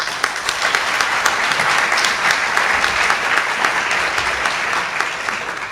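An audience applauds at a university's 2021 Distinguished Performance Awards and Service Recognition Ceremony, giving steady, loud, sustained clapping from a full room with no break for nearly six seconds.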